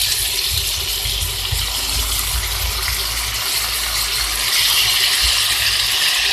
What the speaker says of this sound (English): You add the ackee in here.